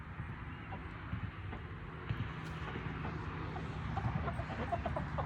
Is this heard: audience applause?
no